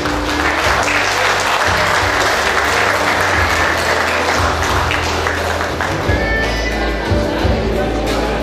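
An audience at a 45th-anniversary honours ceremony applauds loudly and steadily, a dense wash of clapping hands filling the whole stretch, with an announcer's voice heard over it.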